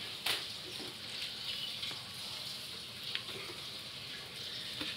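About 1.7 litres of water poured steadily from a container for mixing cellular concrete adhesive, a continuous close splashing rush with no talk.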